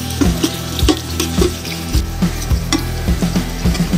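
Onions sizzle and fry in a pan while the masala for chicken haleem is prepared, with steady frying hiss and repeated stirring scrapes in a close, moderately loud rhythm.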